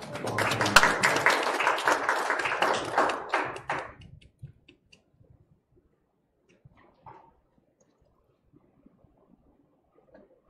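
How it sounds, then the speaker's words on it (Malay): A church congregation claps to welcome Pastor Peter at a 2020 Sunday service. The dense applause rings out for about four seconds, then fades to near silence with a few faint knocks. "Kita berikan tepuk tangan untuk mengundang Pastor Peter."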